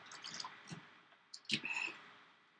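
A person takes a quick drink of water in a quiet room, making faint wet sips, soft clicks and a couple of swallowing squishes close to the microphone, with no speech.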